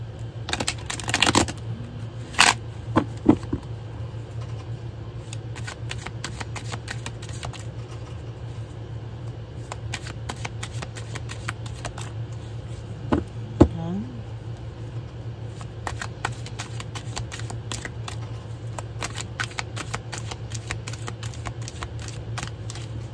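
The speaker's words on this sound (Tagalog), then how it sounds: "Okay, buksan po natin ang ating baraha." Deck of fortune-telling cards shuffled close by in short, sharp riffling bursts, loudest near the start, then sparse light clicks over a steady low hum, with a person talking throughout.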